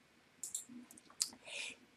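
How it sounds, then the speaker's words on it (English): A computer mouse gives a few faint, crisp clicks in quick succession in a quiet room, brief ticks with near silence between them. "You click the right button on your mouse"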